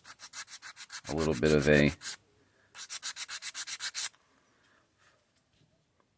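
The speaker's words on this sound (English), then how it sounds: "we take a sanding block and we knock an edge down a little bit" A sanding block knocks down the edge of a lite-ply wood part in quick rhythmic back-and-forth strokes. A burst of rubbing is followed by a second run of steady strokes before it goes quiet.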